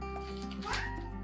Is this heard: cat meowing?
yes